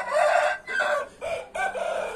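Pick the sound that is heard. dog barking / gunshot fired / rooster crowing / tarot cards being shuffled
rooster crowing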